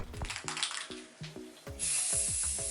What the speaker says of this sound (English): I spray it with some of this gloss white spray paint